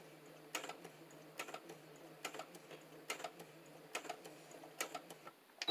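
A sewing machine back-stitching an apron: quiet bursts of rapid mechanical ticking and clatter, repeating about once a second, close and fairly faint.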